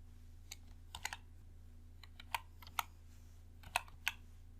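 Scattered keystrokes tap on a computer keyboard in short bursts of a few quick clicks, quiet and close, over a low steady hum.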